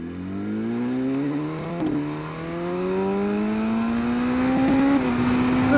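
A 2019 Aprilia Tuono 1100 Factory motorcycle engine revs and climbs through the gears, its rising tone building steadily and loud with no talk.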